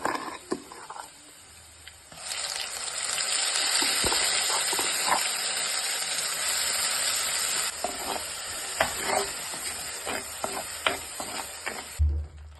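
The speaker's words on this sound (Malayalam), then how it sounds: "നമ്മൾ അരച്ച് വെച്ച അരപ്പ് അതിലേക്ക് ചേർത്ത് കൊടുക്കുക" Ground coconut paste with shallots sizzles and hisses steadily in a hot pan while being sautéed for a Kerala vatta fish curry, with a loud sustained fry and scattered spoon-stirring clicks and scrapes, no talking.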